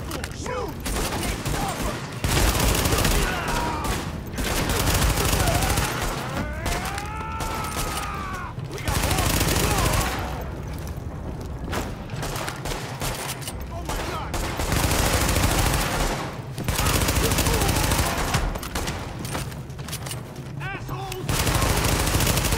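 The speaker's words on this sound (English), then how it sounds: "The escort party's taking heavy fire from the roof." Gunfire rattles in Tom Clancy's The Division, with bursts of automatic fire and shots in loud clusters separated by brief pauses, alongside game effects and some radio-style chatter.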